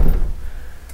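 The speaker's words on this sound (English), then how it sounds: "if you just want to pull out the drawers, that'll work too" A full-extension drawer under the bed of a 2011 Rockwood Windjammer 3002 travel trailer slides out with a short, low rumble and a soft thud, close by, then fades into quiet.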